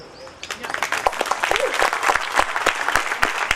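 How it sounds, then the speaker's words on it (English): An audience at a closing plenary session breaks into applause that builds from scattered claps into loud, dense clapping, with some voices and sharp individual claps standing out. "join us with a big applause for all of them"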